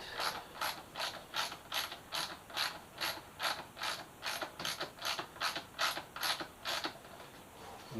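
A ratchet tightens a bolt on the airbox of a Suzuki GSX-S 1000F motorcycle, with about fifteen rhythmic clicking strokes close up, followed by a quiet pause.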